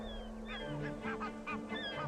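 Barnacle goslings call in a rapid series of short, honking peeps on a barren cliff-top, close and fairly loud over a steady low background rumble.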